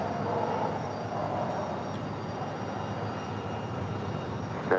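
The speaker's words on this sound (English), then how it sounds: "Our next departure is United Airlines Flight 2376 heading to Denver, Colorado." A United Airlines Boeing 737-900ER departs for Denver from LAX, its jet engines a steady, broad roar that holds evenly throughout with no voices over it.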